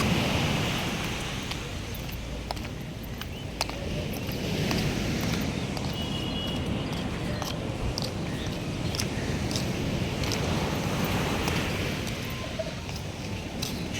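Morning sea waves washing on the shore, a steady broad rushing wash with scattered soft taps and clicks, moderately faint and continuous without talk.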